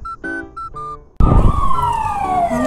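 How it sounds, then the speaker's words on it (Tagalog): A few electronic beeping tones give way to a loud ambulance siren that cuts in abruptly and wails with a steadily falling pitch, close and prominent with no voices. "May ambulansya, airplane, at saka fire truck."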